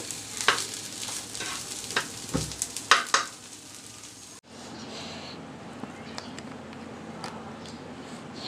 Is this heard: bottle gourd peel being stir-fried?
yes